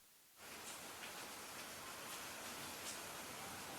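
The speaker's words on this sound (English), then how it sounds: "I love the sound of rain." Steady rain with a hissing, even wash of drops that sets in abruptly after a brief near-silence and continues at a constant, fairly soft level, with no voices.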